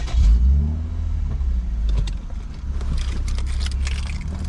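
A tuned Lexus IS250 engine cranks and fires with a deep low burst, then settles into a close, rumbling idle with faint clicks and rattles.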